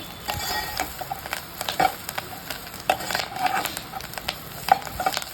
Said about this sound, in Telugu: నెక్స్ట్ కరివేపాకు కూడా దాంట్లో యాడ్ చేసుకోవాలి.